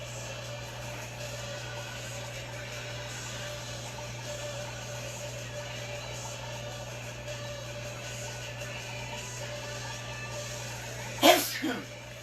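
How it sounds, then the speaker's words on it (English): A single loud sneeze bursts out near the end, standing sharply above a steady low hum and quiet room background. "I assumed you heard that sneeze because he's really loud,"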